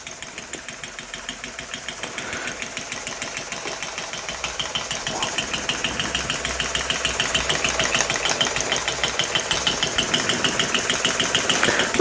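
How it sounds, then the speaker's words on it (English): A homemade Elektro model steam engine runs at low speed with a steady, rapid mechanical chuffing and clatter that slowly grows louder and more insistent, close by with no voices. "Not exactly a high-speed engine, but it doesn't matter, it's running"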